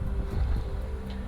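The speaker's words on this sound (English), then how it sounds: "we got 3 authentic Star Trek Borg ship sounds. We got the engines, the tractor beam, and a laser cannon" Electronic engine hum from a Playmates Star Trek The Next Generation Borg ship toy, a steady low droning rumble with a faint tonal whine, continuous and fairly close for its whole length.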